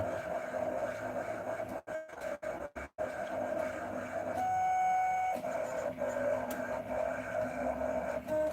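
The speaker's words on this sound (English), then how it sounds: "Well, Diamond, you don't have the sublimation printer yet?" Sublimation printer printing hoodies whirs steadily with a mechanical tone, broken by several sharp clicks and brief stops early on before the carriage hum resumes and carries on alone.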